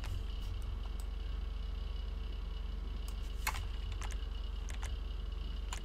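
Computer keyboard typing during a gaming session: scattered clicky keystrokes, single and in quick bursts, over a steady low electrical hum, fairly close and without talk.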